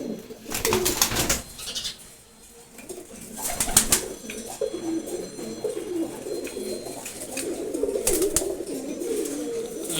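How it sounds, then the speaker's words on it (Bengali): A male Giribaz pigeon of the ghiyachulli type coos close by in low, repeated throaty phrases, with a few sharp fluttering or rustling bursts mixed in. "খুবই সুন্দর একটা ঘিয়াচুল্লি নর কবুতর এটা।"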